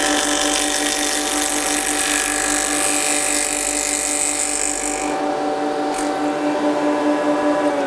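A single ended tenoner cuts through a wooden fence with a steady, loud, high-pitched machine whine that holds for about five seconds, then drops to a lower running hum as the cut finishes.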